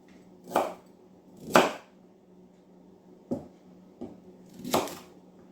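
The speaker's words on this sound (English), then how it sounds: "And then the thicker piece just cut into half." Knife cutting vegetables into chunks for a honey and mustard sausage bake, giving five separate chopping strikes on a board, two fuller ones early, two quick sharp taps, then a last firm cut, close and moderately loud with no talking.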